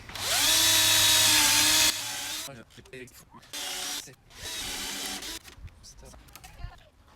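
Power drill boring into pallet wood for a garden table, a loud whirring burst that rises in pitch at the start, followed by shorter intermittent drilling bursts and a voice speaking between them.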